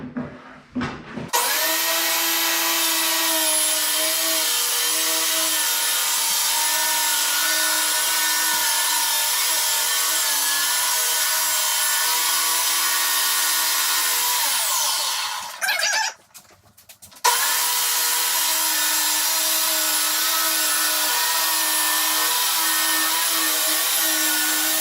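A table saw blade set at 15 inches rips steadily through wood for a kitchen cabinet, running loud and continuous before a brief pause near the end and then resuming.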